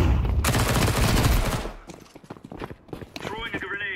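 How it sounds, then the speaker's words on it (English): Flashbang grenade going off in a shooter video game, a dense burst of loud crackling blast followed by scattered sharp impacts and clatter, with a voice calling out near the end. "Throwing flashbang."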